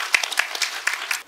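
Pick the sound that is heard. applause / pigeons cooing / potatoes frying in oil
applause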